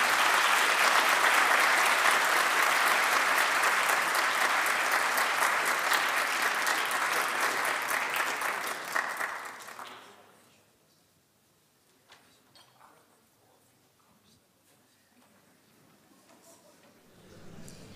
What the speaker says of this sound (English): So a round of applause for our winner.